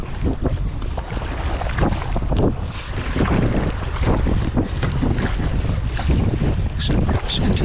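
Strong, steady wind gusting across a microphone while paddling a barge kayak with a speed blade, a constant loud rush with water sloshing beneath, no speech.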